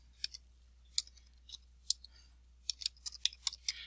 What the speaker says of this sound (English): I'll click somewhere near the center and type in the names Ryan Reynolds.